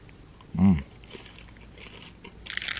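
A coconut Christmas chocolate with a praline and almond inside is bitten once, giving a short, loud crunch near the start. Faint quieter crunching and rustling follow.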